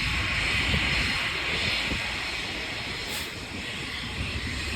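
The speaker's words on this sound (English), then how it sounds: "I hear a plane taking off. It's kind of loud." An airplane takes off from a runway near an airport at 120th St and Crenshaw Blvd, Hawthorne, as a loud, steady broadband roar with no talking over it.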